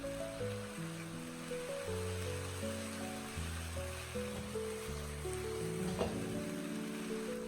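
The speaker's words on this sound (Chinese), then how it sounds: "再次翻炒均匀" King oyster mushrooms stir-fried in a wok with sauce poured in give a faint, continuous hissing sizzle, with a brief clatter of stirring partway through.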